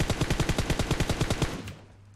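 Rapid automatic gunfire from PUBG Mobile, a fast burst of about fifteen evenly spaced shots lasting around a second and a half, loud and close, then a short fade into a low hum with no talk.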